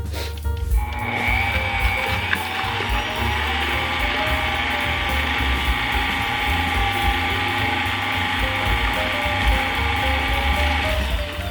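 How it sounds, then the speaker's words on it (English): A 12-speed electric mixer whirs steadily at a medium speed as it beats cake batter, a loud continuous mechanical hum with a faint rattle, close by and uninterrupted, with no talking. "I have a 12-speed mixer, so I'll probably mix it at about a 5 or 6."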